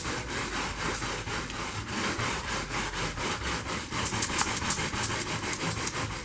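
A soft natural-bristle brush rubs back and forth over the lead came of a stained glass panel during polishing, giving steady rhythmic scrubbing strokes close by, with no talking.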